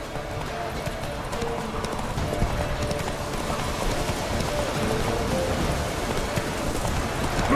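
The horse Roach gallops in The Witcher 3, hooves clip-clopping in a fast, steady rhythm over a constant hiss of rain, running at Ultra settings.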